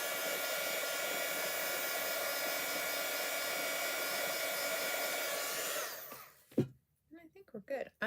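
A hair dryer blows steadily and loudly on scrunched wet paper being dried for card making, running continuously for about six seconds before switching off, followed by a few brief handling sounds.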